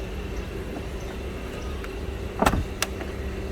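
The soft-close doors of a 2007 Mercedes-Benz S350 L pull shut with two brief, muffled clunks in quick succession over a steady low background hum.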